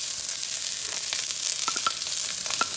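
Onions and garlic sizzle loudly as they hit hot oil with mustard seeds and dried chilies, a steady close frying hiss with a few sharp pops and crackles and no talking.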